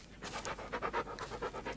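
A dog pants in the Blair Witch video game, a steady run of quick, rhythmic breaths, close and fairly quiet, with no talk over it.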